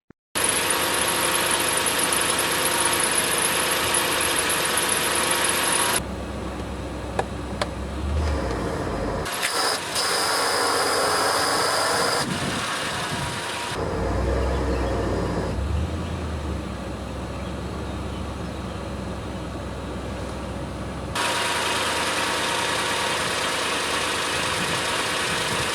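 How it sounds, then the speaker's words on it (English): A 2007 Toyota Tundra engine runs with its AC compressor clutch locked up, a steady close engine drone with knocking that goes on for nearly half a minute, cutting to a quieter, rougher stretch midway before the louder running returns. "The problem was that the AC clutch was locked up when I turn on the AC"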